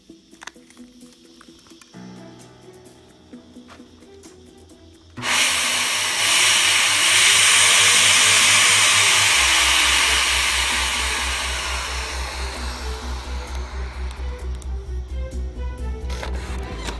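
A vacuum pulls air through a refilled printer cartridge's printhead, a loud, close, hissing whoosh that starts abruptly and holds steady, preceded and followed by quieter mechanical printer whirring.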